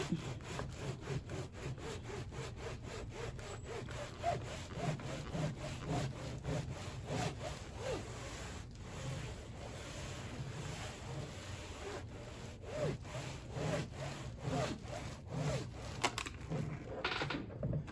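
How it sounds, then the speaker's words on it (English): Heat transfer vinyl is rubbed firmly onto a custom Infiniti floor mat through a Teflon sheet, giving a steady, close scraping and rasping with a repeated back-and-forth rhythm, alone. "I'm just rubbing it in and trying to push it down a little bit."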